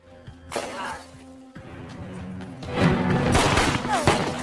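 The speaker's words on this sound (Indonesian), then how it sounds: "terdengar suara tembakan dari dalam restoran" Several loud, sharp gunshots burst out at irregular intervals from inside a restaurant in a film scene, amid crashing, chaotic noise.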